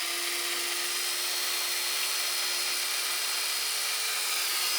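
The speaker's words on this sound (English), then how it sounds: "Okay, so that is spinning the drill clockwise" A drill spins steadily as it drives an automated chicken coop door closed, a continuous whirring motor whine that holds close and even for several seconds with no talking.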